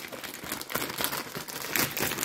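Plastic packaging around a heated vest crinkles and crumples as it is opened by hand, a close, busy rustle of several quick crackling bursts.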